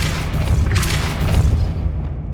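A Depulso force spell goes off in Hogwarts Legacy with a deep, rumbling magical boom that swells and holds steady, loud and close, over a low sustained roar.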